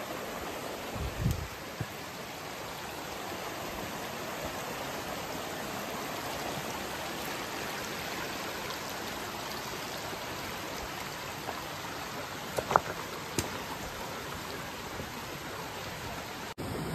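The Kundalika river rushes through a valley below Savlya Ghat, a steady broadband wash of flowing water, fairly faint and continuous, with a couple of brief knocks near the start and end.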